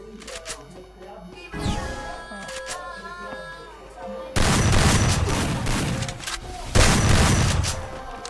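Gunfire in the mobile battle-royale game Free Fire: a few scattered shots early, then two loud dense bursts of rapid fire with booming impacts, under background game sounds.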